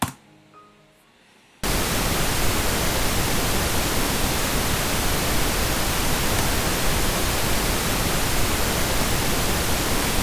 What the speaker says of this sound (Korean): 핑크 노이즈는 이거예요. 들어보세요.